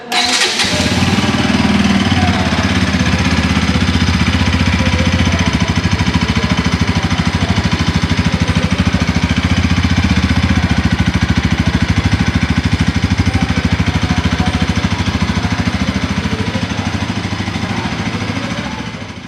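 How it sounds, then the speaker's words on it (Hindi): A Bajaj Pulsar NS 200 motorcycle cranks on its electric self-starter, catches, and settles into a steady, close, continuous idle that runs alone throughout. "तो चलिए बाइक को स्टार्ट करके देखते हैं।"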